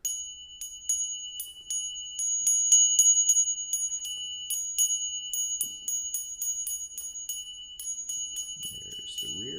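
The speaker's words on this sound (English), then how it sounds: "So a little finger cymbal." A small finger cymbal struck over and over in quick irregular clusters, each bright metallic ping ringing briefly with a clear sustained tone, close and alone in an otherwise silent room.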